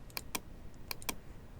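Computer keyboard keys are pressed in two quick bursts of light, crisp clicks, close and clear, with no voice.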